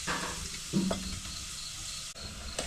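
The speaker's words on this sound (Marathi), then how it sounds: "कांदा तेलात फ्राय करून घेते थोडा फ्राय झाला की मग टमाटर टाकून घ्यायचा आहे" Chopped onions fry in hot oil in a pan, a steady close sizzle with soft stirring scrapes and a few brief knocks, continuous throughout with no voices.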